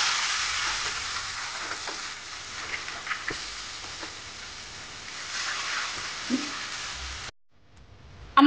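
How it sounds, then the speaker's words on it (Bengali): Chopped onions fry in oil with dried chillies in a pan while cooking Katla posto, giving a soft, steady sizzle with a few light stirring clicks, then a sudden cut to near silence and a brief louder noise at the end. "আমার পেঁয়াজগুলো লাল লাল করে ভাজা হয়ে গেছে।"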